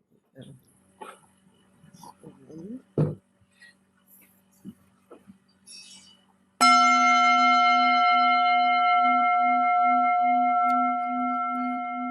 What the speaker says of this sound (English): and we'll unmute you, Sharon, so we can hear your bell.